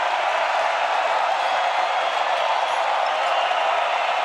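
Dense, loud roar of a basketball arena crowd cheering during a close college game between Purdue Fort Wayne and UCF, a steady sustained wall of noise with no breaks.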